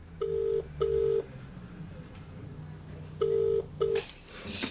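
A telephone number is dialed on a landline, with four distinct touch-tone beeps in two pairs separated by a pause, clear over a faint low background hum.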